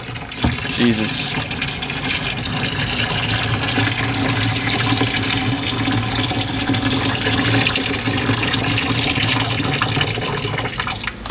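Boiling water pours from a kettle in a steady, loud rushing gush that runs unbroken for several seconds, with a brief exclamation from a voice partway through.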